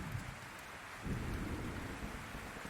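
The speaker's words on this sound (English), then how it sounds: "Occasionally, the thunder echoes through the forest" Low thunder rumbles faintly through a forest around a log cabin, under a steady hiss of rain, brief and distant-sounding with no voices.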